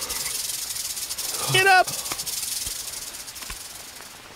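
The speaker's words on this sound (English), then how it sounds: "Oh, look, there's a snake!" A snake hisses in the Green Hell survival video game, a brief close burst standing out over steady jungle ambience, followed by a short spoken shout.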